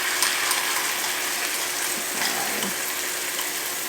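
Sauce hits a very hot pan of braised pork ribs and bubbles up at once, making a loud, continuous frothy sizzle with small crackling bursts close by.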